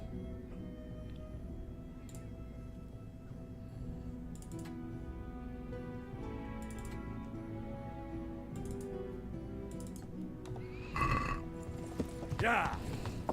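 Horse hooves clip-clop steadily while riding in Kingdom Come: Deliverance, a continuous rhythmic patter at moderate level, with a couple of louder bursts near the end.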